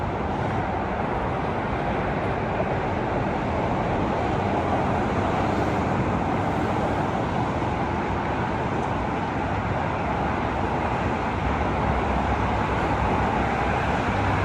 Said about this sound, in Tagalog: Yan, daming sasakyan sa highway na yan guys.